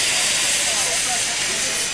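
Steam locomotives of a quadruple-headed train at Galston in 1993 give off a loud, continuous hiss of steam. It stays steady and close for the whole stretch, with no break.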